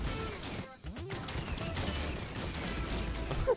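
Shotgun blasts in a video game ring out in a short burst of sharp reports over a busy game soundscape of whooshing and tonal effects, moderately loud with no voices.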